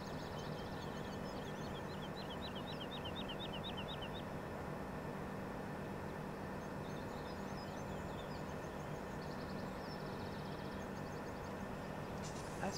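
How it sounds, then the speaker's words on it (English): A train runs in the video game Farming Simulator 17, giving a constant rolling rumble and drone for over twelve seconds, with light bird chirps in the background. "I wish the train went faster."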